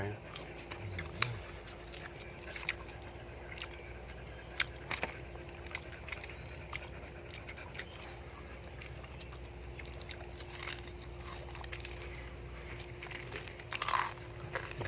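Someone bites and chews crunchy deep-fried pork intestines, with sharp close crunches scattered over a steady background hum and low room noise, no one speaking.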